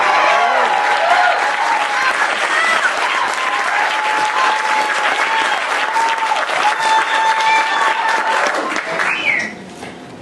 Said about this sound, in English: Clap for Lulu.